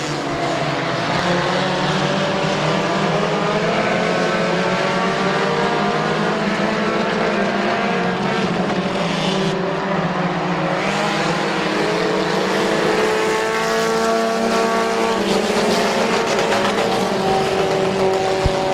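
Race cars lapping the Midvale Speedway oval, with several engines droning loudly and continuously and pitch sweeping as cars pass through the turns.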